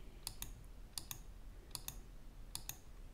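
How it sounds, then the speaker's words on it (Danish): Button presses on a TI-30X calculator, four quick pairs of crisp plastic clicks spaced about a second apart, soft and close in a quiet room. "Så jeg klikker på STO, altså store, og klikker frem til B."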